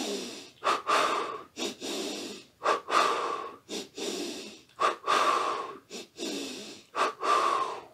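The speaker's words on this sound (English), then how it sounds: "if we do double breathing or we just simply do the Wim Hof breath, the first one, and we hyperventilate." Wim Hof hyperventilation breathing: a person takes quick, forceful breaths in and out through a steady run of about a dozen loud, close, rhythmic cycles.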